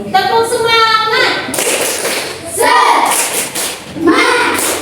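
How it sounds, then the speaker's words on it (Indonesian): A group of children performs a rhythmic clapping cheer in a room, with chanting voices, thumps and patterned claps coming in bursts, loud and close. "Tepuk semangat."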